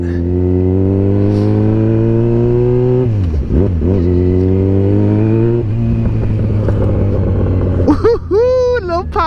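A 2009 Yamaha FZ6R motorcycle with a newly fitted exhaust idles loudly up close, then is revved in sharp sweeps that rise and fall before settling back to a steady rumble.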